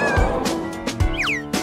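A kitten or cat meows several times up close: short, clear calls with rising and falling pitch, spread across a quiet indoor room with no talking.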